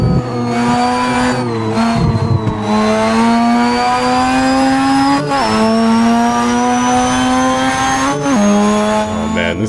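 Mazda RX-7 drift car in the racing game Assetto Corsa at Laguna Seca, its engine droning loud and high with rising revs, brief lifts and shifts, and tire squeal while sliding sideways.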